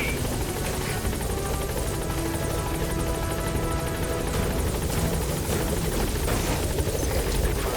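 A Pequod helicopter coming in for an extraction in Metal Gear Solid V, with its steady rotor roar and engine drone continuous and loud for the whole stretch, with no talking.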